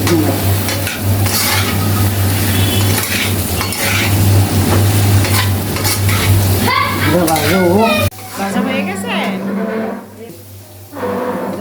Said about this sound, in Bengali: এটাকে ভালোভাবে ভাজতে হবে নুন আর হলুদ দিয়ে